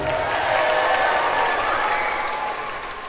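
A children's and family concert audience cheers and claps together, a broad, steady roar of applause with mixed voices that holds for a few seconds and then eases off slightly.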